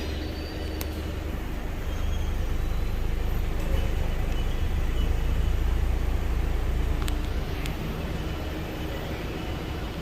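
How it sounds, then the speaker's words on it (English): A 2015 Ford Escape with the 1.6L EcoBoost engine, showing 189k miles, runs at a steady idle with a low continuous rumble close by and no voices. "We're gonna start this thing up now and see if it smokes."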